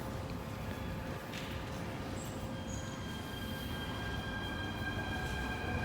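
A test train rumbles steadily nearby through Po Lam Station on a single-track line, with faint squealing wheels and high metallic tones over a constant rolling drone.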